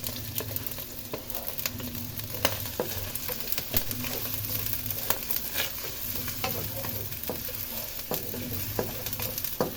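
Onion fries in a little cooking oil with a constant crackling sizzle, broken by frequent small pops and utensil clicks.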